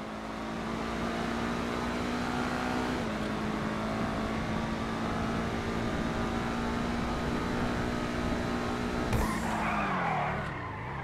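Benefactor SM722 sports car in the GTA Online video game, with a loud steady engine drone, then a sharp tire squeal as it skids through a handbrake turn near the end.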